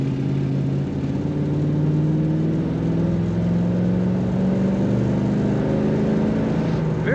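A 1973 Dodge Charger with automatic transmission idling with a steady low engine rumble, close and continuous, with a faint whir and no talk over it.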